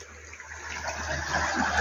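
Fast-flowing stream water at a nature reserve at night, a steady rushing gush that grows slightly louder, heard close by with no voices.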